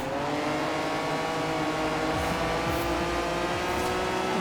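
Fiat X1/9 engine in Forza Horizon 4 revving hard as the car accelerates, a loud buzzing racing note that climbs through gear changes in a continuous run.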